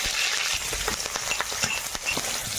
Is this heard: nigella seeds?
yes